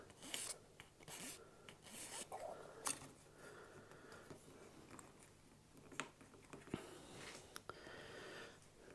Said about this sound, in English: just clean that up with a file